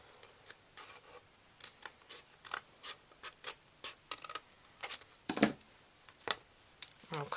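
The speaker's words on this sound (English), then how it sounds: "I'm going to trim all the way up to that score line" Cardstock for a note card holder is trimmed on a paper trimmer: a quiet series of short, crisp slicing scrapes and clicks at an uneven pace, close by with no talking.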